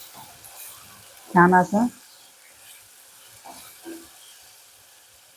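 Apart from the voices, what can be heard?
tomato puree added to frying onions, sizzling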